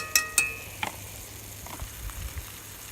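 Butter goes into a pan on a flat pack rocket stove at a campsite, with a couple of sharp metallic clinks at the start followed by a faint, low sizzle and soft scraping.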